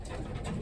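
Pigeons coo in a loft during pairing-up time, a brief, close, low murmuring coo over a dense bed of soft bird noise.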